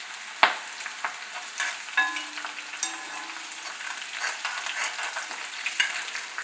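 Chillies, mustard seeds and lentils sizzling in hot oil for a tempering, with sharp pops and crackles over a steady fry and occasional stirring scrapes, close and fairly quiet.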